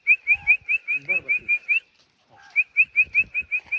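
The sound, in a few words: person whistling to make a dog dance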